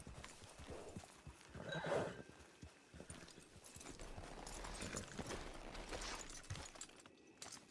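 In Red Dead Redemption 2, horse hooves clip-clop steadily along with a horse's whinny, set against an ambient outdoor backdrop with scattered knocks and rustles, moderately close throughout.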